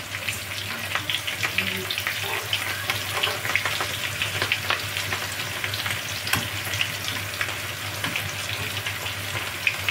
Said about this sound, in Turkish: Bunu böyle çok bol yağda da kızartmayın arkadaşlar. Az yağda kızartın.